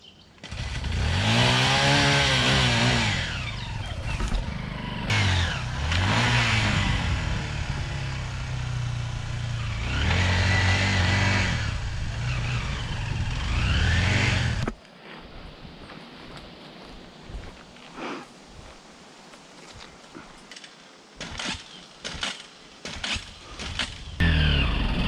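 A Minsk X250 motorcycle engine revving hard, loud raspy two-stroke rising and falling pitch sweeps for about fifteen seconds, then dropping to a quieter, uneven idle with scattered knocks and sputters.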